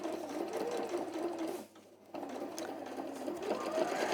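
A sewing machine stitches quilted fabric for a beach hut wall hanging, running in a steady close whir that stops briefly partway through and then resumes.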